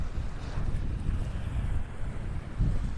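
Steady wind buffeting the microphone on a beach at Delnor-Wiggins in North Naples, Florida, a continuous low rumble with gusts and faint surf beneath, no voices.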